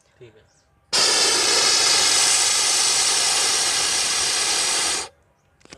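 A voice produces a loud, steady hiss like television static for about four seconds, abruptly starting and stopping, imitating a lost signal.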